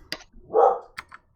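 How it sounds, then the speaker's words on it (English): Dogs bark in a few sharp, close yips and one fuller bark, scattered across a second and a half, with no talk over them. "Sorry about the dogs."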